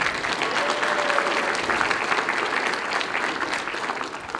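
Steady applause from a ceremony audience honoring a speaker's two young children, a dense wash of clapping that holds at an even, fairly loud level throughout.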